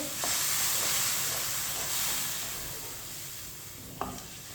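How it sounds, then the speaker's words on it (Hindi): Sweet vermicelli (seviyan) is stirred with added water in a pan, giving a steady close hiss and sizzle. Two quick spoon clinks stand out over the simmering. "पानी डाल के मैंने मिक्स कर लिया।"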